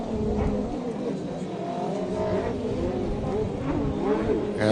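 A watercross racer's personal watercraft passes by, its engine whine rising and sliding in pitch under continuous commentary from people talking.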